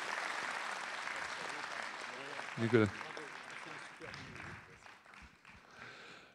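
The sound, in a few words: audience applause at a New Year ceremony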